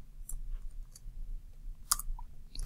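Computer keyboard typing, a few sparse, crisp key clicks spaced irregularly over a quiet low hum, with a small cluster of clicks toward the end.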